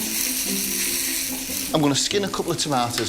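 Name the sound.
chicken frying in coconut oil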